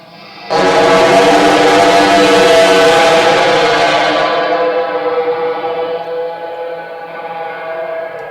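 Fart recording run through the Pro Tools fuzz plugin for harsh distortion: a sudden loud, buzzing, gritty sustained tone that slowly thins and eases, ending in a strained, scream-like quality, with no talking.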